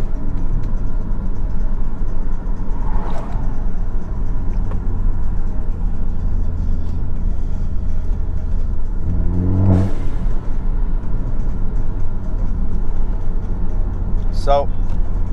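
Steady engine drone and road rumble from a Ford ST car while driving, continuous and fairly loud inside the cabin, with a couple of brief louder swells.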